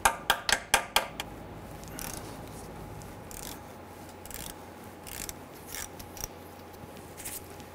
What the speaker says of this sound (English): I'm gonna go ahead and give this a few taps.